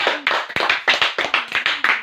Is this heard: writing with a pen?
no